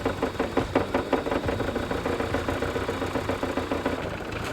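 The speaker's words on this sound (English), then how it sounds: "I'm going to squirt it down the carb and then see if it'll start." A carbureted 1.6-litre 8-valve Suzuki Samurai engine runs with a rough, rapid knocking idle, loud and close, with no voices over it.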